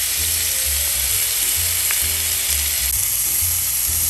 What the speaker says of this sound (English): We're just going to get a nice sear on it for about a minute and a half.